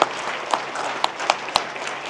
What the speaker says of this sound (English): That's a round of applause right there.